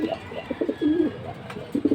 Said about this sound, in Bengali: খুব সুন্দর বড় সাইজের কবুতর